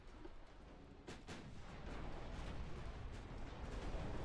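Warship guns fire in the naval game Ultimate Admiral Dreadnoughts, a series of heavy booms over a low, continuous rumble, faint and somewhat distant.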